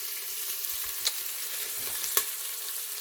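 Spices sizzle in hot oil in a pan, a steady close frying hiss with two sharp distinct pops about a second apart.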